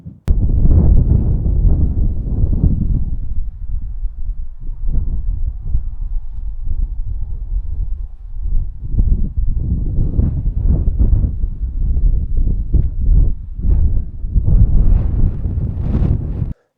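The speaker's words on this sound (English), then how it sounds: "It's starting to get a bit windy out there." Strong gusts of wind batter a tent at a windy camp beside a stone circle in the Peak District. The close, loud, deep buffeting surges and fades in waves throughout, and no voices are heard.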